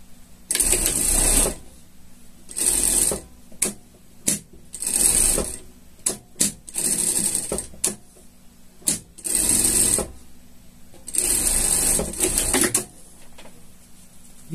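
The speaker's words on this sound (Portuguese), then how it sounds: "E vamos passar a costura ali." A sewing machine stitches a seam on a grey and blue shark costume, running in repeated bursts of a second or so separated by short pauses and a few quick clicks, loud and close with no talking.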